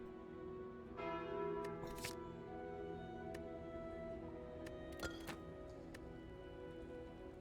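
A ringing bell tone in the card game Slay the Spire as the Calling Bell relic is taken, its metallic partials sustaining and decaying quietly over faint game clicks.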